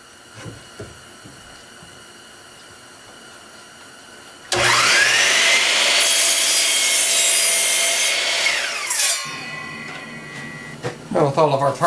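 Wooden parts are sawn to length: after quiet handling noises, a loud, close cutting roar starts abruptly and lasts about four seconds, then winds down into scraping and a few sharp knocks.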